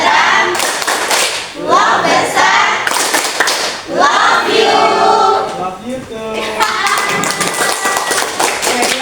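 A group of people performing a rhythmic clapping chant together in a classroom, with loud bursts of hand clapping interleaved with voices chanting along.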